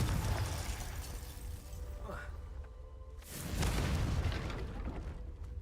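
A Confringo blasting spell from Hogwarts Legacy erupts in a loud burst with a rushing whoosh, set against steady game background noise and music.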